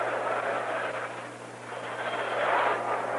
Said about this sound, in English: Helicopter flying over.